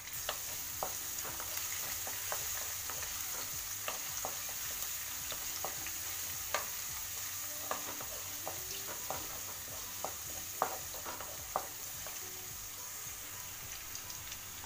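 Garlic and green chillies fry in a pan with a steady soft sizzling hiss, punctuated by occasional small clicks and taps of a stirring utensil.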